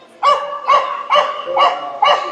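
A dog barks five times in a steady, evenly spaced series, loud and close, at a free anti-rabies vaccination and microchipping event for dogs and cats.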